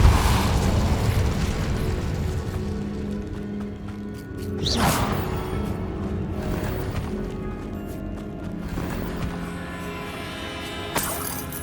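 Incendio and Depulso spells cast in a Hogwarts Legacy catacomb fight, a rumbling burst up front, then a sharp whooshing blast mid-way and a quick pop near the end over steady ambience.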